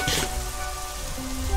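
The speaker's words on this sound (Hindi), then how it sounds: "बारिश भी चालू हो चुका है" Rain falling in the video game Minecraft, a steady even hiss of downpour throughout the brief moment, with a low rumble near the end.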